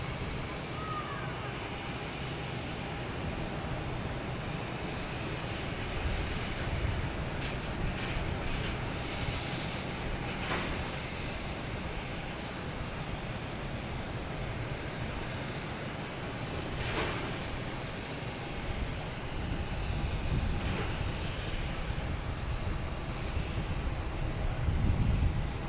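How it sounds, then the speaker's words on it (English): A United Airbus A321neo bound for Denver rolls for takeoff at Boston Logan Airport, a broad sustained jet engine roar that stays loud and steady and swells toward the end, with faint outdoor background noise. "we have a United heading to Denver, an A321neo"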